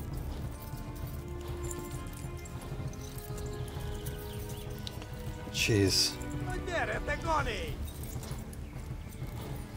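A horse gallops in Kingdom Come: Deliverance, its hooves thudding in a rapid rhythm beneath background game noise, with a louder burst partway through and a man muttering briefly.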